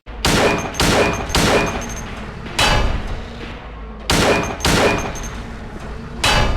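Repeated handgun shots in the video game Silent Hill 2, loud sharp cracks fired in uneven bursts of three, then one, then three, then one, each with a short ringing tail and no talking.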